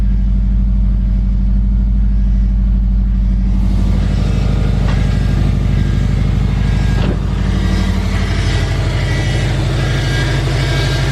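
A Subaru WRX's replacement engine idles after a fresh restart, a loud, even, low rumble heard up close that holds steady for the whole stretch with no voices over it.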